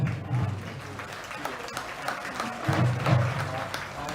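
Audience at a county band festival applauds a high school marching band, a busy mix of clapping and crowd noise with some voices mixed in, rising slightly near the end.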